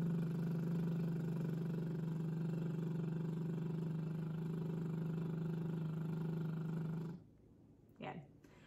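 A voice holds a lip trill at a steady, comfortable pitch for about seven seconds as a vocal warm-up, then breaks off, followed by a brief soft vocal sound.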